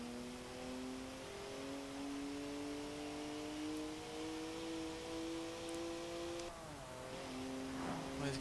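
A BMW 1M engine in Forza Horizon 4 revs steadily, its pitch climbing through sustained tones before it drops abruptly as it shifts and rises again, all over a constant roar of road noise.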